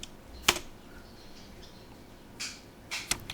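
A few faint, scattered clicks of keys tapping on a keyboard while entering Cisco switch commands, sparse and quiet in a still room.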